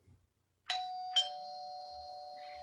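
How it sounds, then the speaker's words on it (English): A doorbell rings nearby with two clear tones, a ding then a dong, the second chime ringing out and sustaining steadily in a quiet setting. "and then rings the bell."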